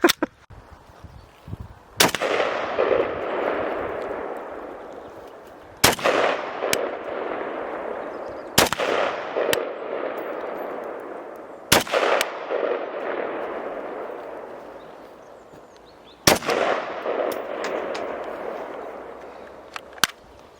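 Galil ARM rifle fired outdoors, six single loud shots spaced a few seconds apart, each with a long rolling echo fading away before the next.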